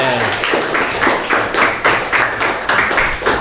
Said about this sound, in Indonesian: beri tepuk tangan sekali lagi untuk Devadan